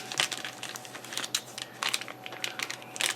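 Cellophane wrapper on a Perdomo Champagne cigar crinkles up close in quick irregular bursts of crackling, fairly quiet with brief pauses between handlings.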